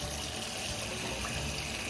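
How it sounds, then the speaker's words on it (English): Pasta cooking water pours steadily out of a lidded pot into a sink, a continuous close splashing gush with no pauses. "I generally lid my pot, hold on tight, and then pour all of that liquid out"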